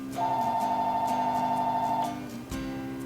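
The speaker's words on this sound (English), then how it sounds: "What is that phone ringing?" An electronic phone ringtone sounds indoors as a steady, fairly loud warbling tone for about two seconds, then cuts off, leaving faint room noise with no talking.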